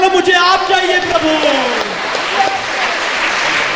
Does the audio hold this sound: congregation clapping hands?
yes